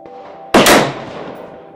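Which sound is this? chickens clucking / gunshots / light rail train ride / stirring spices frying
gunshots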